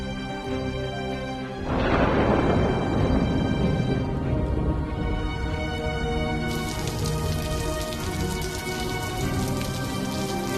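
Steady rain pours down in a movie scene, a dense hiss of drops hitting a surface that starts abruptly and continues evenly, with no voices.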